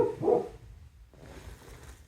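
A local village dog in Pangboche, Nepal, gives one loud, close bark at night, followed by a quiet stretch with faint background noise.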